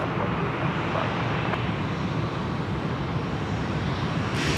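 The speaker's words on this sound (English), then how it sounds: "737 just coming up here. Taxiway Charlie, this service 491 going to Melbourne this evening." A Boeing 737 airliner taxiing on a taxiway at Sydney Airport in the evening makes a steady, moderately loud engine rumble and whine, constant throughout with a faint click near the end and no speech.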